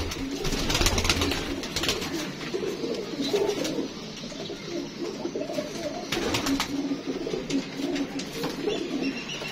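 Pigeons coo steadily in low, rolling calls, several birds overlapping close by, with some faint chirps and background rustling.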